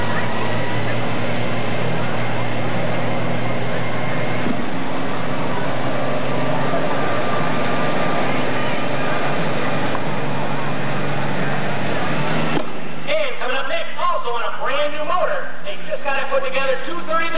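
Supercharged Allis Chalmers D21 tractor with a 426 cubic inch block roars steadily and loud through a tractor pull run, then cuts off abruptly; a voice talks under the engine noise and continues alone afterward.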